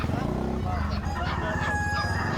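Roosters crow at a busy Bocaue pet market, their calls rising over a dense background of crowd chatter and market noise.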